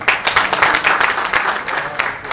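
An audience at a national award event gives loud applause for the writers, a brisk, dense burst of many hands clapping up close with no talking.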